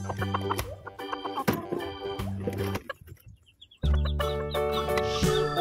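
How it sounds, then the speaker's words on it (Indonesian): Chickens ride in the compartment of a long trailer truck that also carries ducks, rabbits, cattle and buffalo. Their clucks and squawks come close and in bursts over a tonal, music-like background, with a brief lull midway. "Ternyata ini ada ayam KT teman-teman."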